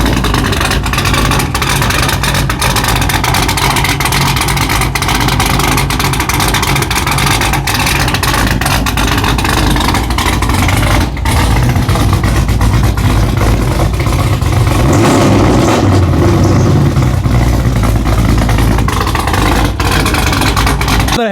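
Pontiac GTO V8 with a loud aftermarket exhaust, a steady deep rumble at close range carrying a lumpy cammed idle and rising into revs near the end.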